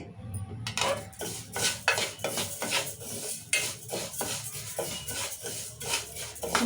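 Moong dal tipped into a heated pan and dry-roasted for an onion and green chilli moong dal curry, giving repeated clattering scrapes of a metal spoon against the pan in a steady stirring rhythm, close and fairly loud.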